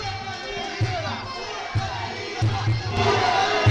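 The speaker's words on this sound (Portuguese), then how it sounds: "A torcida começa a gritar Nil, hein." A Muay Thai fight crowd at the Cães de Guerra 6 event chants a fighter's name Nil in a steady repeating rhythm, loud, with a dense background roar of arena noise.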